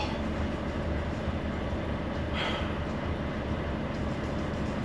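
Steady rumble of a train in motion, a continuous loud low-frequency roar with faint rolling texture, heard as a truck is taken aboard a rail shuttle bound for France.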